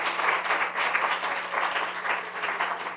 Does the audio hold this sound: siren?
no